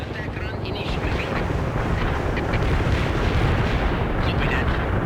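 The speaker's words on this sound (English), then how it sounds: "The barrage was right on target." Artillery barrage in the World in Conflict strategy game: a dense, continuous rumble of distant shelling and blasts rolling on steadily for several seconds, loud throughout.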